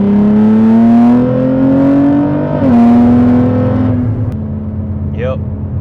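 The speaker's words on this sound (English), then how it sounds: "Downshift crisp." Nissan Z with a six-speed manual transmission, its engine note held steady, then a downshift blip raising the revs before the drone settles lower; loud and close from inside the cabin.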